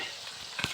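Spices, turmeric, chilli powder and ginger paste stirred and fried in a pan while cooking dal for a Bengali funeral-rite meal, a soft steady sizzle with a brief louder scrape of stirring near the end.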